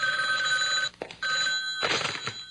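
A telephone bell rings in steady electronic trills, broken by a short gap and a soft thump, then resumes with a brief rattling clatter near the end.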